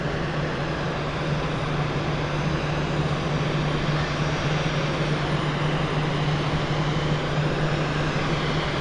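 A Boeing 777-300ER airliner passing near London City, a loud, steady engine roar with a constant low hum that holds evenly throughout, with no voices.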